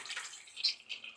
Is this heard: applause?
no